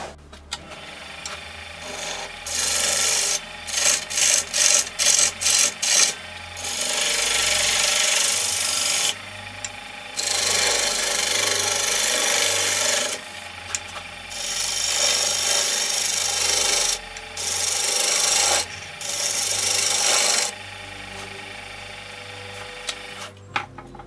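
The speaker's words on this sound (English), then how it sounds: "I'm just gonna use the skew to just try to smooth this out a little bit." Skew chisel smoothing a pine vessel on a wood lathe gives bursts of rasping, hissing cuts, a run of quick short strokes followed by several longer sustained passes with gaps between, over a low motor hum.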